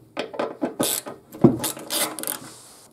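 Screws being taken out of the fuel tank lock on a Suzuki Bandit 1200 motorcycle, with a series of close, clicking ratchet-like mechanical turns and scrapes in short bursts, no talking.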